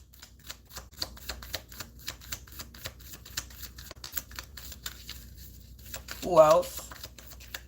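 Tarot cards being shuffled by hand, a rapid run of crisp, evenly spaced flicks and snaps close by, continuing steadily for several seconds while a person briefly speaks.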